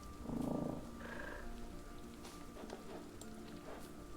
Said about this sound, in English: is he purring? I think he's purring.